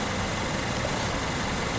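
Mazda SkyActiv 2.0 liter four-cylinder engine running steadily, a loud constant broadband hum and whir without changes in speed, no voices.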